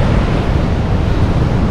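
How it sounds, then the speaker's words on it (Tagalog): Large ocean waves breaking at a cold, windy beach in Casiguran, Aurora, heard as steady, loud broadband surf roar mixed with wind buffeting the microphone, with no voices. "Ang laki ng alon pa din sa umaga, grabe."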